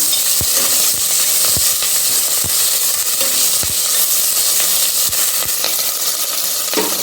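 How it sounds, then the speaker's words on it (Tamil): Green chilies and grated ginger stirred in a sizzling pan, a constant loud frying hiss with a spoon scraping and knocking against the pan at irregular intervals, close and without speech. "இஞ்சி துருவல் சேர்த்து மிக்ஸ் பண்ணிக்கலாம்"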